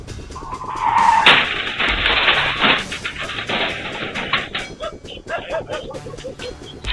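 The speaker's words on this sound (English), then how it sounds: "a high-speed car approaches and collides with the vehicle, causing severe damage to both" On a wet road, a car skids with a sharp hiss of tires and then crashes into another vehicle, a loud impact followed by rattling debris and scraping, recorded from a dashcam.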